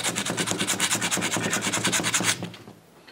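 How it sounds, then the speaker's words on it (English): Old gasket remnants are scraped off the volute of a Skidmore pump, a fast rhythmic rasping of repeated close strokes that stops abruptly near the end, with no voices. "here I'm going to clean off the rest of the gasket from the volute side."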